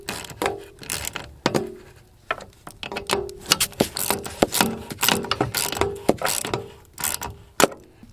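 A ratchet tightens plumbing fittings during a toilet carrier and PEX rough-in, giving sharp, close, irregular clicking strokes in uneven bursts across the whole stretch, with occasional knocks and no talking.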